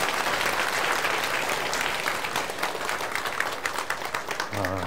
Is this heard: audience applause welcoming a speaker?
yes